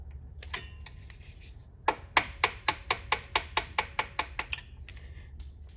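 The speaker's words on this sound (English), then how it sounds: "I got the size punch I need to finish driving the pin through" On a Silverado/Sierra transmission range switch, a hammer strikes a punch to drive out a pin: a few scattered taps, then a steady run of about thirteen sharp metallic blows, close and evenly spaced, with no talking.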